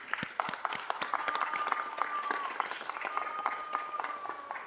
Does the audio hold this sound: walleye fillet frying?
no